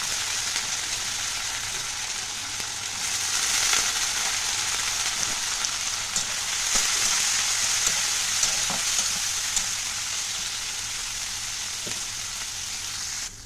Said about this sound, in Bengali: বিনস গাজর অনেকটাই ভাজা হয়ে গেছে, অল্প নুন দিয়ে দিচ্ছি